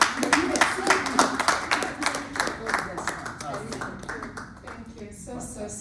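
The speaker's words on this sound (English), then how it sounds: "a big round of applause for all of us" Applause from an audience at a chairperson handover ceremony, a crowd of hands clapping steadily and fairly close, the rolling patter gradually thinning toward the end.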